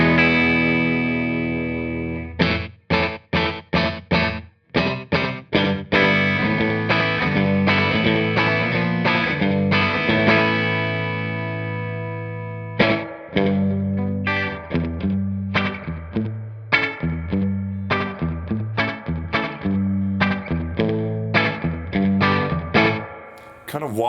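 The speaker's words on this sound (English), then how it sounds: "It's almost like a doubler kind of effect." An electric guitar played through the Silver Llama vintage amp plugin with a slap delay rings out in strummed chords and picked notes, the short echo doubling and widening each attack with light overdrive.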